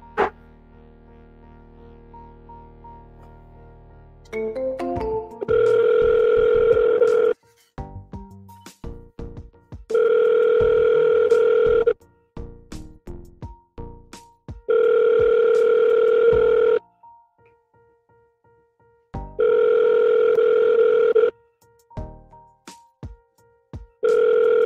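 Outgoing telephone call ringback: four steady two-tone rings of about two seconds each, separated by pauses, preceded by brief dialing tones and punctuated by faint clicks, with no one speaking.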